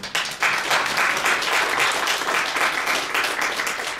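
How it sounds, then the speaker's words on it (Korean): A seated audience at a human rights center launch ceremony in Seoul's Korea Press Center gives a big round of applause, loud continuous clapping starting abruptly and holding steady for several seconds. "큰 박수 부탁드리겠습니다"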